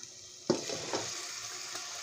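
Boiled moth bean sprouts and potato drop into hot spiced oil with a sudden loud sizzle, then a steady frying crackle continues, with a few stirring scrapes.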